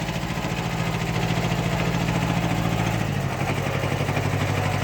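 A small Kubota B5001 tractor engine idles in a steady, close, throbbing chug, its pitch dipping slightly partway through.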